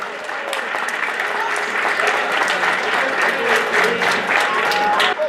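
Steady applause from a crowd at a Polish football club's team presentation as a player is introduced, dense clapping sustained throughout, fairly loud and filling the space.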